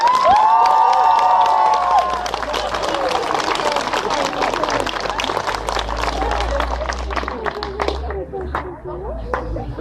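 A crowd at a farewell gathering of a Dominican walking pilgrimage bursts into loud applause and cheering, dense clapping and shouts sustained throughout, with a few voices calling out at the start.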